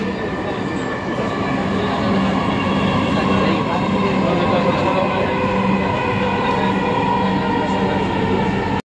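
A loud, steady rumble and hum of a Dhaka Metro Rail train at Uttara North station, continuous throughout, with a brief cutoff at the very end.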